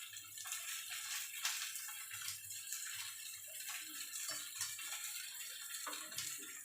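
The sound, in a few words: boiled vegetables put into cold water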